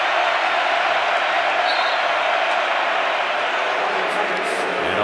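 The standing crowd in a college basketball arena roars after a dunk in an Iowa State versus Missouri game, a dense, sustained wash of cheering that stays loud throughout, with a commentator talking over it.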